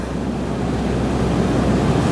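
River water rushing at Little Falls in the Boundary Waters canoe country, a steady, loud, broadband roar that fills the whole moment without pause.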